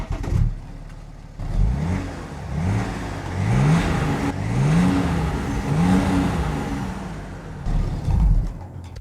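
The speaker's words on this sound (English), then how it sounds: "now let's hear how this 3-liter inline-6 diesel sounds" A BMW G11 7 Series with a 3-liter inline-6 diesel is revved repeatedly, about five rising-and-falling blips in a row with a lower idle before and after, close and fairly loud.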